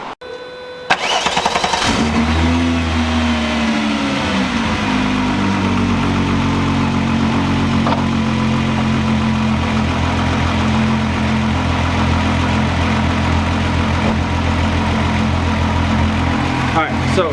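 A Mk3 VR6 car engine starts and settles into a steady, low rumbling idle in first gear that continues unbroken, close and fairly loud.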